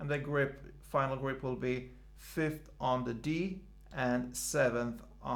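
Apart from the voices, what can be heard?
No everyday noises stand out.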